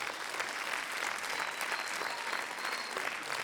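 Steady applause from a concert audience fills the hall, dense and even throughout, with many hands clapping together and no voices standing out.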